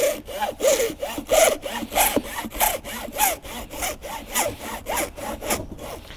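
A hand saw cutting through a car battery terminal post, with a steady rhythmic back-and-forth rasp of about a dozen strokes, close and clear with no talking.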